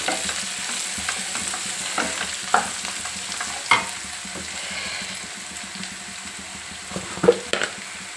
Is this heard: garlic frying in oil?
yes